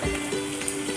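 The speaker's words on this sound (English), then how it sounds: "fry the onion until golden brown" Onions frying in a pan for sausage fried rice give a brief, steady close sizzle with a faint crackle and no voices.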